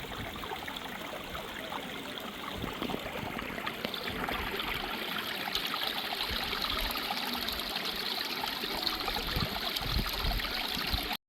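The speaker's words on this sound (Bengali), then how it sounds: "পানির কলকল শব্দ শোনার জন্য এখানে স্থির হয়ে বসে আছি আপনারা শুনুন" A clear stream babbles and trickles steadily at close range, a continuous rushing flow of water that holds even for the whole stretch, with no voices.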